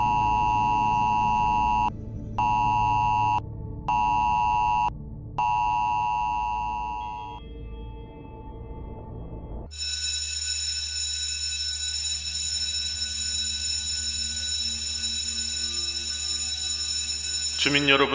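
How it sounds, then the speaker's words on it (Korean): Loud sine-wave fire alarm broadcast tone for residents, sounding in repeated beeping bursts that stop, then a fainter buzzy alarm tone running steadily after a short gap. "현재 방송되는 화재 경보는 시설 점검이나 오작동이 아닌 실제 경보 방송임을 알립니다"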